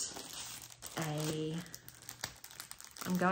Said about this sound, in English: sorry for the crinkles, but I do want to open this up and show you this amazing fabric that I bought